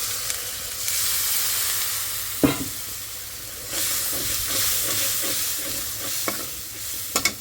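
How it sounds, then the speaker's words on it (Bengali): Vegetables frying in oil left over from frying fish, a loud continuous sizzle and hiss with stirring scrapes and a few sharp clatters of a utensil against the pan, close up with no talk. "মাছটা এখানে ভাজিয়ে রেখে দিচ্ছি এটার তেল দিয়ে আবার রান্না করতেছি"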